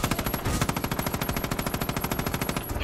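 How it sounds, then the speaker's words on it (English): In the Far Cry 5 video game, a helicopter's gun fires at players as a fast, continuous stream of rapid machine-gun shots. The burst is loud and dense for about three seconds, then cuts off. "Whoa, what's shooting at us? Is that another helicopter?"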